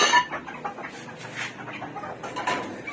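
Bantam hen clucking close by in a backyard coop near her clutch of eggs, a run of short, uneven clucks and soft murmurs that rise and fall across a few seconds with no talk.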